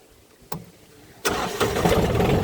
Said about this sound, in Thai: ติดง่ายเครื่องเล็กๆนะครับ